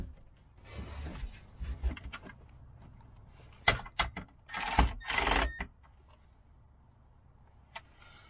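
Wrench loosening 13mm bolts on a swivel seat assembly in a Sprinter van conversion, giving close mechanical ratcheting and clicking bursts with sharp metallic clanks midway, then quiet.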